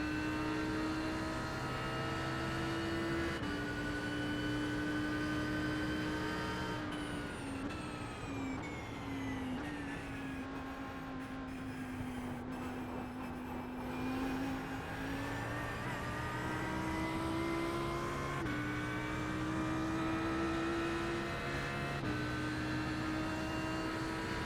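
Lamborghini race cars in a sim racing game roar past with sustained high-revving engine tones that rise and fall through gear shifts, loud and continuous with no talking.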